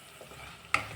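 Spice masala frying in a pan for rajma, a soft low sizzle with a sudden sharp stir or clatter near the end.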